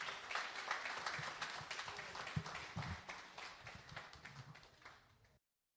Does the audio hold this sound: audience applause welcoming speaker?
yes